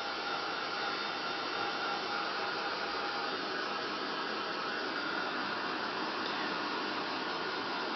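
A hair dryer blows steadily and close by, drying freshly added pieces on an altered canvas, its broadband whoosh staying constant and loud with no talk.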